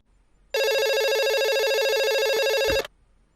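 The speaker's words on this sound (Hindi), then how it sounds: "hello, commissioner Ratna Kumar speaking" A telephone rings with one continuous electronic bell tone, loud and close, lasting a couple of seconds before stopping abruptly, with no talking.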